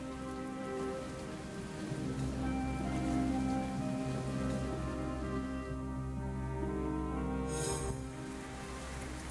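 Steady rain pours down, a dense continuous patter with a low rumble underneath, holding even throughout with no voices.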